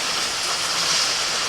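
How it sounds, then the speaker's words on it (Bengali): Steady rain falls in a continuous broadband hiss with no breaks, fairly loud and even, with no talk. "বৃষ্টি এসে গেলো"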